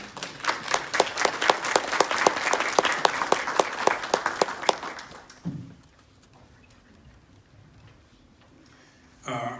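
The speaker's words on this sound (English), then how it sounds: "how about giving them another round of applause?" An audience applauds the speakers of a chronic kidney disease prevention panel. The individual claps are sharp and fairly close, and they fade out about halfway through, leaving quiet room tone before a brief burst of sound at the very end.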